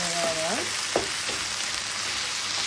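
Beef Szechuan with ginger sizzling in a frying pan as it is stirred, a steady close hiss of frying with a few brief tonal scrapes early on.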